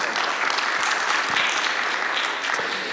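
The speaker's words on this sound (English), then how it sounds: "You can give them a round of applause" Audience applause for panelists at a health policy panel discussion, a dense, steady, fairly close wall of clapping with no speech over it.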